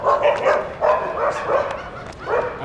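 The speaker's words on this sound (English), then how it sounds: "Dog going crazy. It's a gang. There's a gang of dogs." A pack of street dogs barking at night in Jodhpur, India, with several loud, repeated barks and yips coming in uneven bursts close by.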